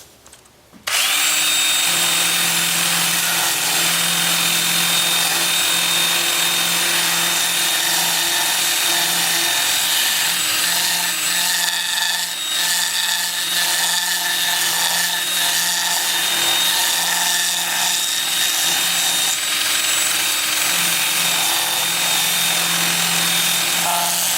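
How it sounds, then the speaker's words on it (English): A 2-inch 80 grit sanding disc works a wood turning on a lathe, giving a loud, steady power-tool whir and abrasive rasp that starts abruptly and runs without pause, with no talk. "Then I'll switch to my 2-inch disc at 80 grit and work up through 400"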